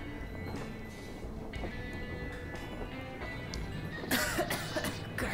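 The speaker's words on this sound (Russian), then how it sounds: "Кашель этот дурацкий." A character in the game Metro Exodus coughs in several rough bursts over a steady, noisy background, ending with a louder, harsher cough.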